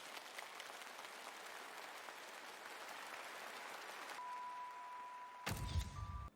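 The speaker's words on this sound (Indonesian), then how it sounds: "Semua orang memberikan tepuk tangan" Broad applause from a gathered crowd, which stays steady for about four seconds and then thins out. A sustained tone and a sharp burst of other sound follow at the end.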